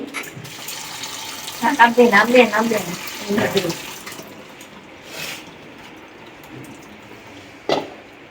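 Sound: water being poured

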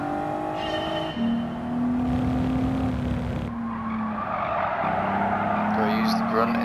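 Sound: V6 four-wheel-drive car engine in Gran Turismo 7 video game

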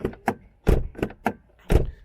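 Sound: Volvo S80 car door closing

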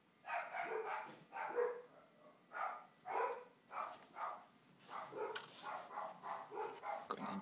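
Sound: dogs barking at someone at the door

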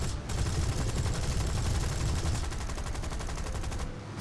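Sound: D.521 aircraft machine guns firing in War Thunder video game

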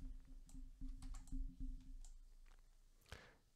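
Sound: typing on a computer keyboard

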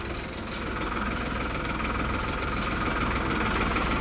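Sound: motorcycle engine started and running

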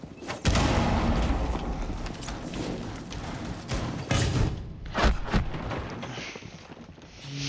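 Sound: gunfire from the video game Rainbow Six Siege

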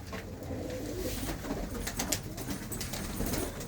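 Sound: pigeons cooing in a loft

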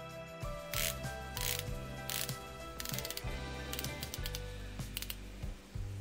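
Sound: Seiko Prospex SPB185J1 dive watch bezel rotating with clicks

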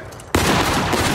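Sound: musket volley fired by infantry line, video game War of Rights

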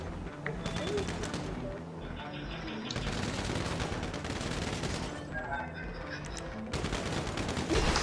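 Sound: gunfire in Grand Theft Auto V video game

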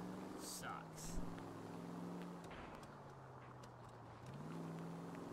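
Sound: Pilot P5 car driving in video game L.A. Noire

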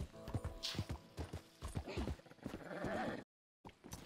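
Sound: horse hooves and neighing, video game

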